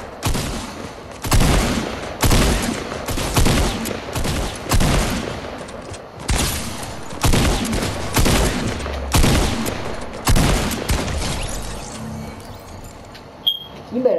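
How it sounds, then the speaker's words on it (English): A shotgun in a one-on-one shooter video game fires repeatedly in heavy, booming blasts spaced about a second apart, loud and close, with a lull of scattered clatter near the end. "Cause that shotgun is doing quite good"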